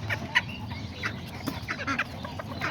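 A small kikiriki rooster clucks in a short run of close, moderately loud calls, with other birdlike chatter and faint farmyard noise around it.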